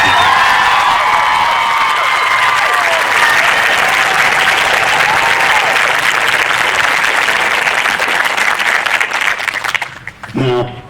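Audience at an awards ceremony applauding steadily and loudly for about ten seconds, dense clapping that holds strong before thinning out near the end as a voice starts.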